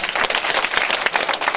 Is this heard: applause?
yes